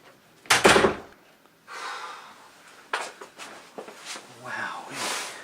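A door in an office swings open and shuts with a loud, close knock near the start, followed by softer shuffling and movement while people talk.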